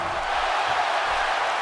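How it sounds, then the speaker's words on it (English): Arena crowd noise in the WWE 2K17 wrestling game is a steady, dense roar of cheering that stays loud and even throughout and has no clear voices on top. "by the sound of this crowd, I think they're getting what they wanted"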